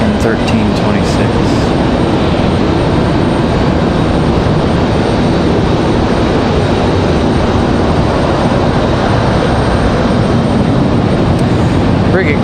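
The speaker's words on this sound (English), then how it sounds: "Perfect landing for American 1326." American Airlines flight 1326 lands at Raleigh-Durham International Airport, its jet roar a loud, steady, broadband rumble filling the whole stretch without a break.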